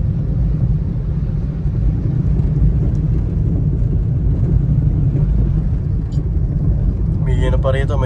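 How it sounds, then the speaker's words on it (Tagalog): A jeep passes along a rural road in Tarlac, a steady low engine rumble with road noise that holds throughout and stays fairly close. "May pa rito, may jeep oh."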